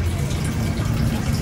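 Water runs steadily from a tap in an abandoned old house, a continuous close gushing flow that fills the whole clip with no pauses.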